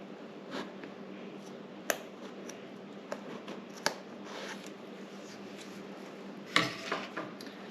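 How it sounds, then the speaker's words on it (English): Sharp scissors snipping between the plastic teeth of a zipper's comb next to a detached side, giving a few isolated crisp clicks and a louder cluster of cuts near the end over quiet room tone. "We're then going to take our scissors and cut in between two of the prong pieces of the comb"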